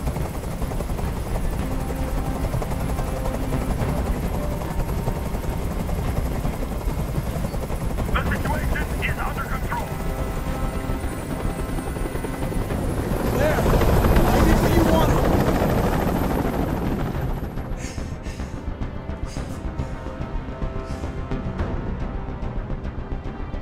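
A helicopter hovers in the Detroit: Become Human hostage scene, a steady broadband rotor drone running the whole time, swelling louder near the middle, with game dialogue and sounds mixed in over it.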